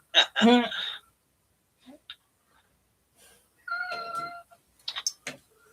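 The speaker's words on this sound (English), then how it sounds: "I heard a kitty." A cat lets out a loud, close meow, followed by a few faint sounds and a couple of higher, shorter cries.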